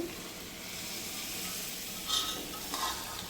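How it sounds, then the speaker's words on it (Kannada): Kohlrabi sambar tempering being mixed in a pressure cooker: a soft continuous sizzle and hiss with a couple of faint scraping stirs near the end, fairly quiet. "ನಾನು ಇದೇ ಕುಕ್ಕರ್ಗೆ ಈ ಒಗ್ಗರಣೆನೆಲ್ಲ ಮಿಕ್ಸ್ ಮಾಡಿಕೊಂಡು"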